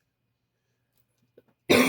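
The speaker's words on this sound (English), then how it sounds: "I wake up every morning with this nasty cough" A single harsh morning cough bursts out loud and close near the end, after a brief soft throat sound and otherwise near silence.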